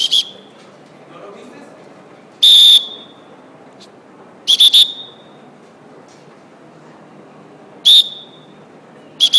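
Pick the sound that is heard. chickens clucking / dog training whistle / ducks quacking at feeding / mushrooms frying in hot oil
dog training whistle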